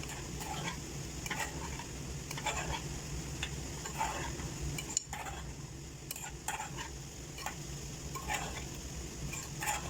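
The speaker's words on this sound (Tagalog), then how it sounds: "Haluin muna natin." A pan dish being stirred while it cooks, a spoon scraping and tapping the pot in irregular strokes over a steady sizzle, with no talking.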